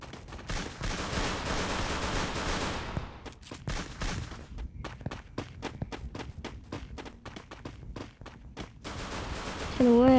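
Gunfire in the shooting game Free Fire: dense bursts of automatic fire give way to rapid separate shots and crackling impacts, loud and continuous throughout, with a tonal game cue at the very end.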